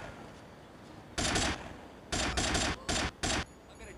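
Gunfire in Grand Theft Auto: Liberty City Stories comes as several short, loud bursts of rapid shots separated by brief pauses over a quiet game background.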